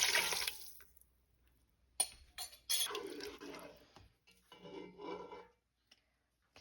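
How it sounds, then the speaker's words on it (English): Beef broth goes into a stew pot in a few short, quiet pours and splashes, with pauses between them, heard up close in a kitchen. "I'm gonna add this in there and my beef broth."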